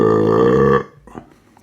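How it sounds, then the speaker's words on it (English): A single loud, close burp rumbles for nearly a second after a sip of session IPA beer, followed by faint quiet noises. "Good burp too."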